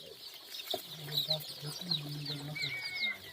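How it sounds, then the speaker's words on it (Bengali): Desi (native) chicken chicks on a poultry farm clucking and cheeping in a continuous chorus, with several close, overlapping calls. "এই যে দেখেন পাঁচশত এরকম দেশি মুরগির বাচ্চা আছে"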